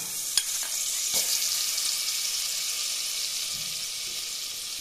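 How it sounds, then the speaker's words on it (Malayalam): Butter and oil sizzle steadily in a hot pan for egg butter masala, a continuous close frying hiss with a couple of faint clicks near the start and no voices. "പാത്രം നന്നായിട്ട് ചൂടായിട്ടുണ്ട് നമുക്ക് ഒരു ടേബിൾ സ്പൂൺ ബട്ടർ ഇട്ട് കൊടുക്കാം"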